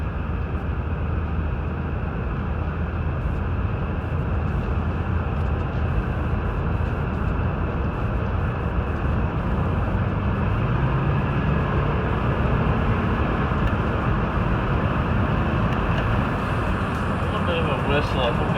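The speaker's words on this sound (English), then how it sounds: "Whistle, I think that's the window." Wind whistles through a window of a Subaru with a 2.5 engine while it drives, a thin steady high tone riding over continuous road roar and engine hum for the whole stretch.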